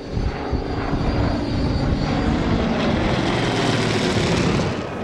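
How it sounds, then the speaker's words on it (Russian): Yak-52 sport aircraft perform aerobatics at an air show in Samara, their propeller engines roaring in a loud, sustained drone that swells and slightly fades, with no voices. "Рев двигателей разрывает воздушную тишину."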